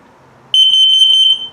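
A carbon monoxide alarm in a 2021 Crossroads Redwood RV, on self-test, bursts on with a loud, shrill, high-pitched tone that pulses rapidly and steadily, close by, after a brief quiet moment.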